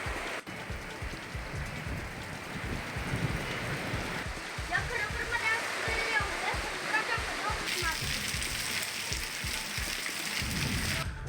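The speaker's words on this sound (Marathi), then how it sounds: "कुरुंदवाड नृसिंहवाडी परिसरात जोरदार अवकाळी पाऊस झाला" Heavy unseasonal rain falls in the Kurundwad–Narsobawadi area, a steady broadband hiss and patter running throughout with a voice talking over it.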